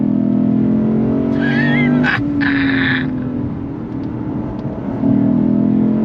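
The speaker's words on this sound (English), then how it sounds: "All the way out to red line. Love the sound of that V8." A 2024 Lexus IS 500 F's V8 revs hard toward redline, a loud rising roar interrupted by a brief high squeal before the pitch drops and surges again.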